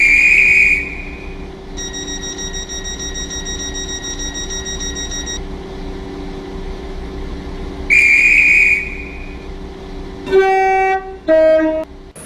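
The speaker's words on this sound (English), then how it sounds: "The train now approaching platform 2" Train whistles and horn tones in the Roblox game Stepford County Railway sound at a station with two-coach trains, two long steady blasts separated by a gap, then a pair of short stepped horn tones near the end over a steady low rumble.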